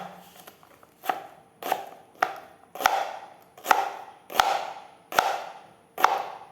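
A purchased food cutter chopping through food on a board, about eight sharp chops in a steady rhythm roughly every half second to second, close and clear with no talking.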